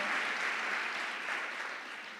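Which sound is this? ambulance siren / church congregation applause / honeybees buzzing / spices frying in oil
church congregation applause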